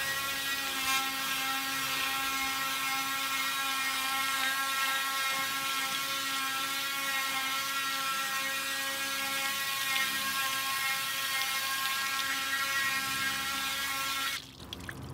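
A Brush Hero Pro spinning wheel brush works deep into a car wheel around the brake caliper, giving a steady high-pitched motorized whine with whirring, slapping bristles up close, cutting off abruptly near the end.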